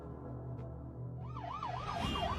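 An ambulance siren wails in a Hindi dubbed film, rising into a fast, wavering up-and-down tone over a low rumble of traffic and growing louder as it comes closer.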